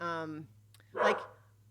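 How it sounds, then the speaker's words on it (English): A dog gives one short, sharp bark indoors, heard close and following a brief stretch of talking. "Oh my gosh, mutual dog barking."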